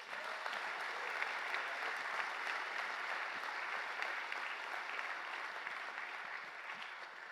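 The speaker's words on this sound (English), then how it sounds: "Can you all help me give a round of applause to our panelists?" A crowd claps steadily for several seconds, a dense, even patter of applause filling the room without any voices standing out.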